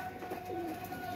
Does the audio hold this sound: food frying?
no